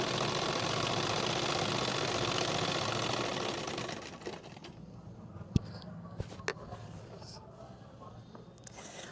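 A sewing machine runs steadily as it stitches elastic onto a sharara, a loud continuous whir for about four seconds, then stops and leaves faint clicks and handling noises.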